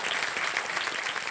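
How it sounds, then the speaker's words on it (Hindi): A studio audience on a television quiz show breaks into thick, continuous applause to welcome a contestant's companion, even and loud for the whole moment. "तालियों के साथ इनका स्वागत"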